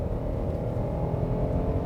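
A 2022 Kia K9 sedan in sport mode gives off a steady, low engine drone with a smooth, even level, heard alone without talk.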